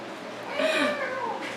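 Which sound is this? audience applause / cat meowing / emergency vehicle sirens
cat meowing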